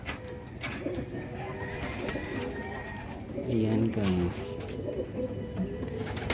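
Pet pigeons cooing close by in soft, throaty rolling bursts, one clearer coo standing out midway, under steady background noise while a person speaks briefly.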